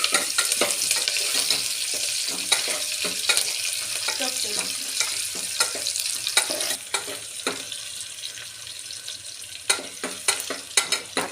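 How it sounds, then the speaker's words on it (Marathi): Chopped onion sizzles steadily in a hot pan with ginger-garlic paste and curry leaves, stirred with a spoon that scrapes and clicks at irregular intervals, close and alone without talk. "कांदा जरा हलवून घ्यायचा"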